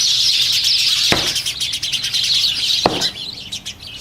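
Birds chirp in a dense, continuous chorus at a bird hotel, loud and close, with two sharp knocks cutting through the twittering.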